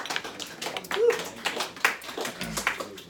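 A live event crowd gives itself a round of applause: scattered, uneven claps from a modest group over about three seconds, mixed with voices and cheering.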